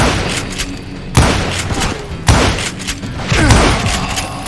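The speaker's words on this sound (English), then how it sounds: "We're under fire!" Gunfire in the Western shooter Call of Juarez: Gunslinger at a camp outside Parachute, Colorado: three heavy booming shots spaced about a second apart, each with a rumbling tail, over a noisy background of game sound.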